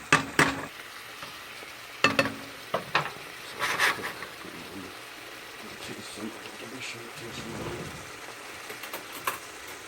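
Dense wild pheasant-back mushrooms sauté and simmer in a pan, giving a soft, steady sizzle broken by several sharp clanks of a utensil against the pan, with quiet voices in the background.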